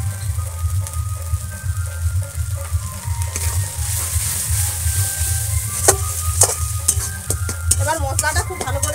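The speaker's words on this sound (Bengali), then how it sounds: "এবার মশলাটা খুব ভালো করে একদম কষিয়ে নেব।" Spices for chicken biryani, with tomato, ginger paste and chili powder, are stir-fried in a pan with a loud, continuous sizzle, while a spatula scrapes and clinks against the metal throughout.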